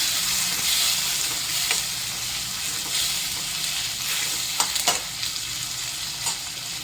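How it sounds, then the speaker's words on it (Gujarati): Paneer butter masala ingredients are stirred and mixed in a sizzling pan: a loud, steady frying hiss broken by a few scraping spatula strokes, with no voices. "બધું બરાબર હલાવીને મિક્સ કરી લઈશું।"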